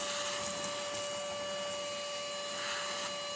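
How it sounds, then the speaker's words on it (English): A vacuum cleaner running inside a bent-front VS ute's interior: a steady whining drone with a constant high-pitched tone and airy rush that holds evenly throughout, then cuts off suddenly, with no voices. "I've now finished vacuuming out both sides of that."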